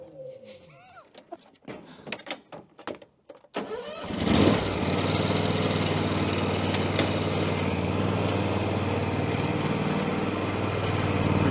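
A ride-on lawn mower cutting grass: a quiet outdoor scene with scattered birdsong, then a petrol John Deere engine starts abruptly and runs on as a loud, steady close-up drone.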